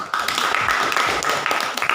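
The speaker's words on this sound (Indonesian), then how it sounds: "Iya, luar biasa, tepuk tangan." Students in a high school physics classroom give a short burst of clapping, with quick, dense hand claps at close range.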